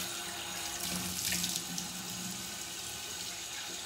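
Tap water running into a bathroom sink while a face is rinsed, a steady close splashing stream with brief louder splashes as hands move through it.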